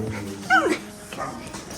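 A large dog lets out a short, high whimper and a soft yip, close by, while people talk over it.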